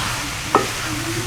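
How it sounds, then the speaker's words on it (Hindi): Tinda sabzi masala fries in a pan, a steady close sizzle broken by a short scrape of stirring. "अब इसको थोड़ी देर मिक्स करेंगे, थोड़ा सा फ्राई करेंगे इसको"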